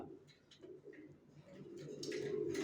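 Soft, low racer pigeon coos repeat steadily at a distance, with a few faint chirps mixed in over a quiet background.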